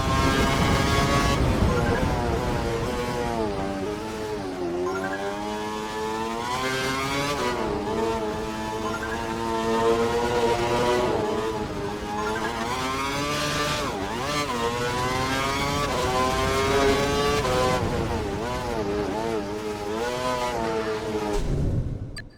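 A Formula 1 race car lapping a wet, soaked track in the video game F1 2012, its high-pitched engine whining loudly as it rises and falls through gear changes and repeated accelerations and decelerations through the corners.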